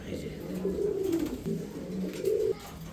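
Pigeons kept for sale coo nearby in soft, low repeated calls, a few drawn-out phrases over a faint background, with someone talking under them.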